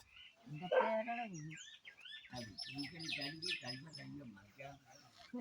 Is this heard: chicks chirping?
yes